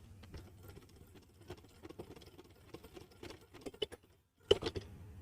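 Domestic sewing machine stitching piping onto a blouse, a soft rapid ticking of the needle at low level, stopping briefly near the end before a couple of louder clicks.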